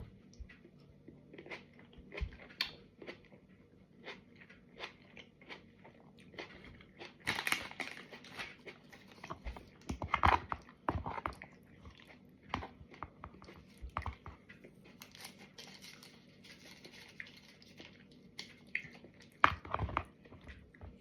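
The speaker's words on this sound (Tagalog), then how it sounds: "It's a bit noisy to chew because the cucumber is very, very crunchy." Close, crisp crunching and chewing of a crunchy cucumber and tuna salad, irregular bites with louder crunch bursts scattered through an otherwise quiet background.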